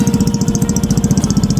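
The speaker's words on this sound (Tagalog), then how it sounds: "Yan yung tunog ng tambutso ni Paps." A motorcycle engine idles steadily after its carburetor has been cleaned, the aftermarket exhaust giving a close, loud, even pulsing putter with no talk over it.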